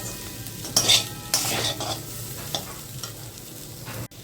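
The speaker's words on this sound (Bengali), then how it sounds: "গ্যাসের ফ্লেমটাকে একদম লোতে রাখবো দিয়ে আমরা পাঁচ মিনিট মতো হালকা ভাজতে থাকবো" Sabudana khichuri mixture fries gently over a low gas flame while a spoon scrapes and stirs it in bursts, soft sizzling running underneath and a metallic tap near the end.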